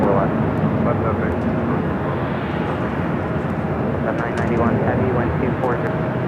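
An Airbus A321neo from Seattle rolls at Los Angeles International Airport, a steady broad engine roar heard from a distance, with radio talk running over it throughout.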